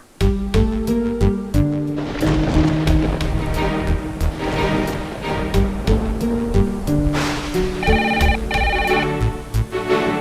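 A phone rings repeatedly and goes unanswered, with a tonal electronic ringtone pattern repeating over a loud, rushing wash of storm and wind noise. No one speaks during it.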